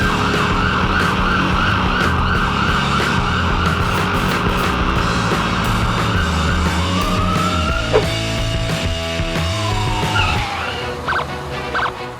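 A wailing ambulance siren sound effect from a Lego animation sweeps up and down continuously over a low engine-like drone, loud and close, shifting pitch toward the end.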